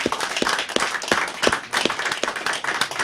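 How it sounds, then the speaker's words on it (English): Audience clapping at a community radio station's tenth birthday celebration, a crowd applauding with irregular overlapping claps and a few louder individual claps, fairly close and steady throughout. "Can we have a round of applause for you guys?"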